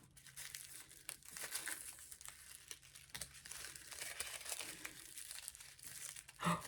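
Thin paper sticker peeled slowly from a wrapped package, a long crinkly rustle of plastic and paper at close range, with a brief louder snap near the end.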